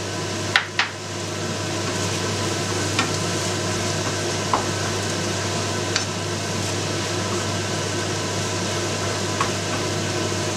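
Minced meat with basil, cooking for cannelloni, is stirred in a pan: a steady soft sizzle runs throughout, punctuated by a few faint scrapes and taps of the utensil.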